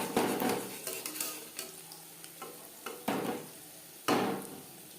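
Drumstick flower pakoras fry in hot refined oil over a medium flame, with a steady sizzle broken by bursts of crackling and scraping stirs in the pan.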